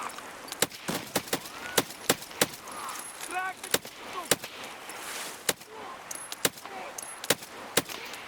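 Gunfire in Escape From Tarkov, many sharp, loud shots in irregular bursts and single cracks, some near and some more distant, with faint voices between them.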